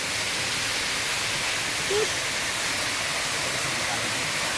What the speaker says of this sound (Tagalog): Ito na ang falls. Natatanaw na.